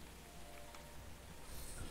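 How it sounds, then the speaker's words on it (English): Steady rain falls in a VR video game set on ocean plains, a faint continuous hiss of drops with no talk over it. "You're in the ocean plains and it's raining."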